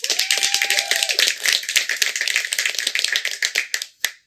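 Warm audience applause welcoming speakers to a conversation event, a brisk patter of individual claps, fairly close, thinning out and ending abruptly near the close.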